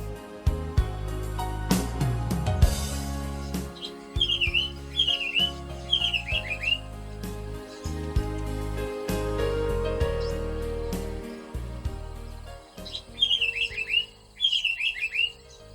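An African paradise flycatcher gives short descending chirping calls in small clusters while building its nest, heard over a background of soft music.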